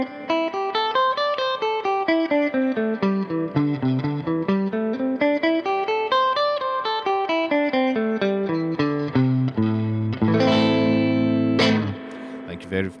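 A guitar runs up and down a full scale in steady single notes, rising and falling in smooth waves, then closes with a few louder, denser strummed chords near the end; no talking.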